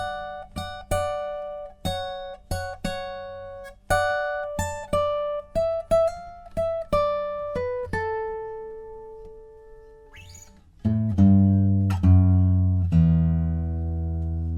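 Fingerstyle guitar picks out a song intro as plucked chords and single notes in a bouncy rhythm, near and clear, with low open-string bass notes ringing in toward the end and no voice.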